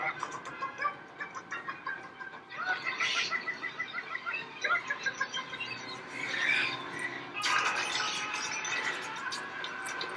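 A flock of birds squawks and flutters in a film scene, loud overlapping calls and wing noise that swell and pulse throughout.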